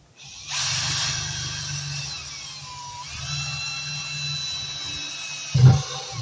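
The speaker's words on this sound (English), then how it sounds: "Drill many holes." A power drill whirs in short bursts, drilling holes in a bucket, steady and fairly close, with a louder thump near the end.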